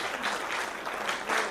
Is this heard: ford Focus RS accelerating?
no